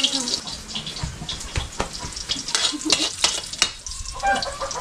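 Garlic fries in oil in a pan over a wood fire, crackling and sizzling steadily with sharp clicks of a spoon stirring against the pan, close up and fairly loud.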